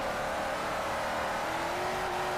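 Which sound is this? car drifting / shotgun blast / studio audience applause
car drifting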